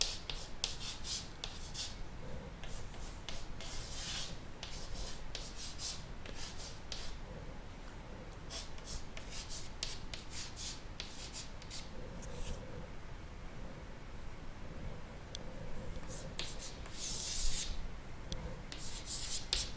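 Math expressions written out by hand, with close, faint scratchy pen strokes that come in short repeated bursts throughout and almost no talk.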